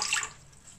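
Water pours into a bowl while potato bun dough is being started, a brief soft splash that fades quickly, faint and close.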